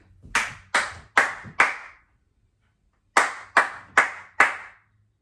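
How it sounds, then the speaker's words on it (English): Close, bright hand claps sound in two groups of four steady beats with a brief gap between them, part of a body percussion routine, and no one talks. "I can clap."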